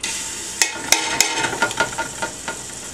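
Ginger dropped into hot olive oil in a pan sizzles and crackles, with a few sharp pops and stirring clatter over a steady frying hiss, close and fairly loud.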